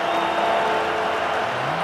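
A football stadium crowd at an Army versus Syracuse college game roars on a big third down, a dense, loud wall of cheering and applause that holds steady throughout.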